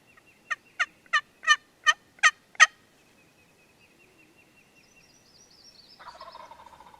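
A wild turkey gobbler in spring woods gobbles in a rapid run of six sharp calls, fairly close and clear, followed by quiet and faint bird chirps afterward.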